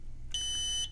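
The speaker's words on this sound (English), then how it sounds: "that lovely sound you're hearing right now is the low RSSI beeper, which is pre-programmed as well" Low RSSI warning beeper on an Eachine EX120 brushed FPV hexacopter gives a single shrill electronic tone lasting about half a second, close and clear over faint background hiss.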